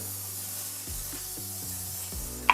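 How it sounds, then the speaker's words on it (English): A steady broad hiss of aerosol cooking spray onto a baking dish runs throughout, with a few low knocks and a brief click near the end. "I'm gonna hit that with some cooking spray."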